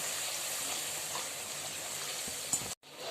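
Masala with red chilli powder and green chillies sizzles steadily as it's sautéed in a pan, a constant frying hiss with a brief clatter near the end.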